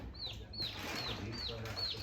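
Young chicks of Rhode Island Red, Golden Comet and Plymouth Rock breeds peeping, five high chirps spaced evenly at close range, faint over a low background hum.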